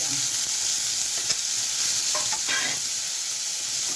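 Onions fry in a little oil alongside eggplant in a pan, producing a constant loud hissing sizzle with occasional stirring scrapes.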